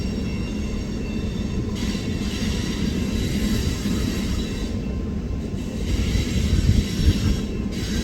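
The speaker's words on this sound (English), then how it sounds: "Now that the coal drag has gotten by and our Council Bluffs train has gotten by" A long freight train rolls past at Pacific Junction, Iowa, with loud continuous rumbling and wheel noise, a faint squeal of wheels, and a rhythmic clatter of cars passing close by.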